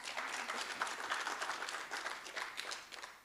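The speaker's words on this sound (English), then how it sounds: "I think we can give CPUT another round of applause." An audience at a university event applauds, a soft, distant patter of many hands clapping steadily for a few seconds.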